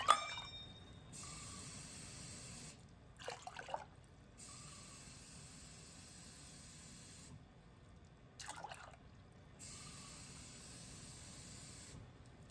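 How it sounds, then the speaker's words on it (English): Water pours into a small pot in a kitchen for Malaysian pulled tea, in steady hissing bursts separated by short pauses and small clinks, close by with no talk. "Add 6 cups of water to a small pot."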